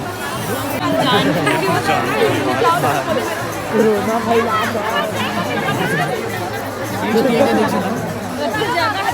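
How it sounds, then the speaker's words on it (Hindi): Dense crowd chatter fills a packed Shiv Mahapuran katha pandal in Balodabazar at night: many overlapping voices form a steady, loud hubbub that swells and dips without pause. "ये देखो भीड़।"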